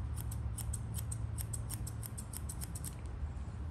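Rapid, rhythmic snips of small scissors trimming a Schnauzer's eyebrow hair close by, about a dozen quick cuts in a steady run, then a brief pause before the trimming resumes.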